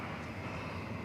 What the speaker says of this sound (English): here comes the A300.